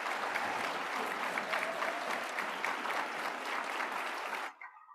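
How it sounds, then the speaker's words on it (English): A conference audience gives sustained applause for organization leaders, a dense, steady clatter of many hands that holds for several seconds and then cuts off abruptly, leaving a brief faint tail. "Please join me once again in applauding the contributions of these leaders"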